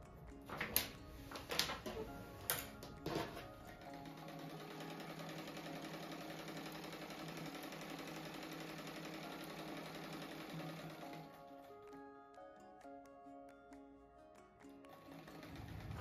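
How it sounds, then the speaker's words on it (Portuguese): A sewing machine stitches a patchwork butterfly mat. After a few sharp mechanical clacks it runs at a fast, steady whir for about seven seconds, then stops, leaving a quiet room with faint clicks. "Então aqui eu vou costurar aqui no meio."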